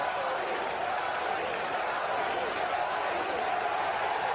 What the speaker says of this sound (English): here's after his home run, what he gets to hear from the crowd